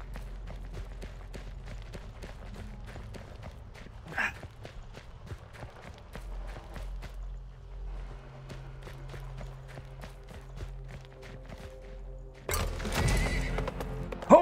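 In the Western video game Weird West, hooves clip-clop in a steady rhythm and horses whinny loudly, then a harsher burst of noise near the end. No voices are heard.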